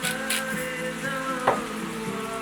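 Vegetables stir-fry in a pan with sesame oil for sweet and sour veg, giving a soft, steady sizzle with a brief stirring scrape midway.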